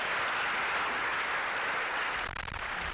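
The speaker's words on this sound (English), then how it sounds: "I would like us to clap your hands for them because they did very well for all of us." An audience at an orthodontics lecture gives loud, continuous applause that holds steady, then thins slightly and turns uneven near the end.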